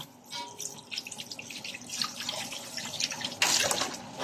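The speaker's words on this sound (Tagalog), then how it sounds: "Talagang naghuhugas. Ayan, tigasin ako ngayon. Ang dami kong mga hugasin." Dishes are washed under a running kitchen tap, with water splashing steadily and close, plus light clinks and a louder gush near the end, and no voices.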